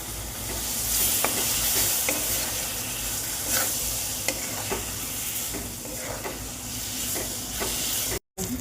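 Green chillies fry with yogurt masala in a pan, giving a continuous loud close sizzle with steady hiss and faint scattered scraping taps of stirring, running throughout with a brief dropout near the end.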